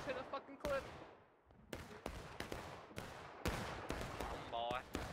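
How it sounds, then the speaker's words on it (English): A musket volley in War of Rights, a ragged string of sharp, loud shots cracking one after another from several rifles, some close and some farther off, with a voice briefly heard among them. "He just shot a fucking clip."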